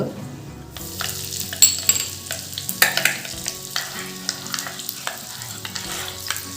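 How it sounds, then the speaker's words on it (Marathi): Fenugreek seeds and asafoetida hit hot oil in a small tempering pan, giving a sharp sizzle with crackling pops and spits that keep bursting irregularly, close and loud, for pickle tempering. "तडका पॅनमध्ये तेल गरम करून घेतले आहे त्यात आता मेथी दाणे टाकून घेते हिंग"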